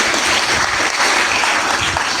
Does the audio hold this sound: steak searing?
no